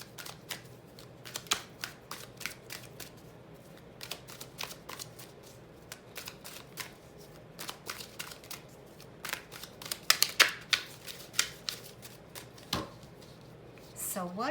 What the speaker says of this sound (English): start shuffling my cards here